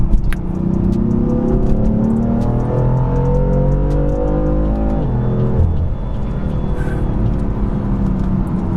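A BMW M4 sports car engine revs loud and close, pitch climbing hard through a gear, then a brief shift before it pulls again.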